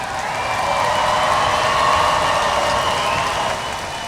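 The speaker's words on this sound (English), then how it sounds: "So now, let's do a thunderous applause once again." A large crowd at a 2019 high school graduation ceremony applauds in a broad, sustained roar of clapping that swells slightly and then eases near the end.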